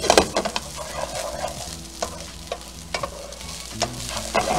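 Risotto rice warming and toasting in a pan, stirred with repeated scraping strokes over a low, steady sizzle close by, with no speech.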